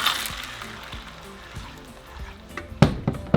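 Salsa sauce sizzling and crackling in hot oil in a frying pan while cooking a Mexican breakfast of huevos encobijados, a steady hiss with a few louder spattering bursts near the end.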